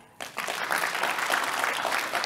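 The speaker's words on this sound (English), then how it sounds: "so we're going to be clapping" After a brief quiet moment, an audience bursts into steady applause, many hands clapping together, lively and sustained.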